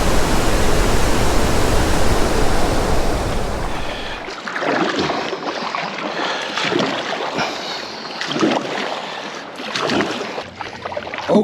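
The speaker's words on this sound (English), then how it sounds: "The more I listen to the water song, the more tempted I am to be in it." Water rushes through a gorge, a loud, dense roar filling the first four seconds, then continuing more softly as a splashing, gurgling flow close by.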